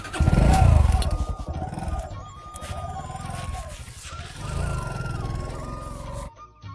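A motorbike engine revs up loudly close by, then settles into a steady running drone as it pulls away, with faint talk over it and an abrupt cut near the end.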